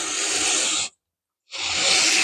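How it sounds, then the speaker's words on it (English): Sanding block rubbing back and forth along the frets of a Stew Mac T-style guitar kit neck during fret leveling, a steady close rasping scrape in two long strokes separated by a brief pause. "I'm letting the sand block do the work"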